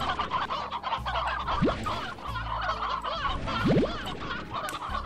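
Chickens in the video game Slime Rancher cluck and gobble in quick repeated bursts, loud and close, over a constant game-ambience hum with no talk.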